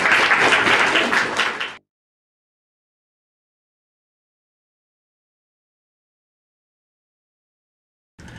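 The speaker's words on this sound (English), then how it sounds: "I think we should clap for her." An audience at an EFT training session claps briefly in a dense burst of applause that cuts off into silence, with a faint trace of sound returning at the very end.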